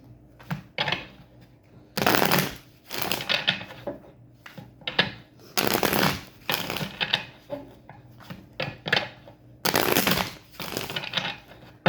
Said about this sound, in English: Wait, let me shuffle these cards first.